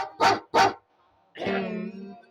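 During a village stage performance in Gorantla, two sharp, loud dog barks come in quick succession, followed after a short pause by a long, drawn-out howl.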